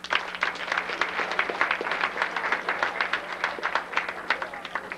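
Steady applause from an audience at a 1994 high school awards ceremony, many hands clapping continuously and evenly for the whole stretch without a break.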